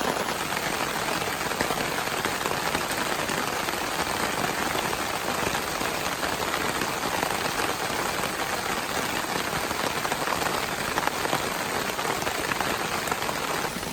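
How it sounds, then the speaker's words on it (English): Heavy rain pours down at a forest campsite during a thunderstorm, a dense, constant hiss of drops striking surfaces close by, loud and unbroken with no talking. "it's raining super hard"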